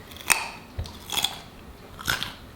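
Three crisp, crunchy bites into a raw carrot, each a sharp crack spaced about a second apart, heard up close.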